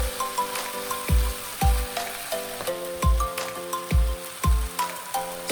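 Rice with tomatoes, pepper and broccoli fries in a pan, a constant crackling sizzle punctuated by regular, rhythmic low thumps of stirring roughly every second, close and without speech.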